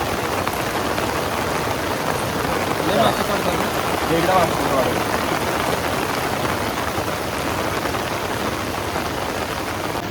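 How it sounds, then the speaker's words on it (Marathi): Heavy monsoon rain pours down in a dense, steady hiss at Pali in the Konkan, close and loud throughout, with faint voices briefly audible beneath the downpour. "तर आता बघू शकता पाऊस जोरात आलेला एकदम"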